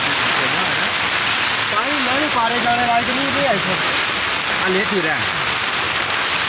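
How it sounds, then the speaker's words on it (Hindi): Steady heavy rain from a thunderstorm hisses throughout, falling around a tent, while people talk in Hindi over it nearby. "ठीक ठाक बारिश हो रही है"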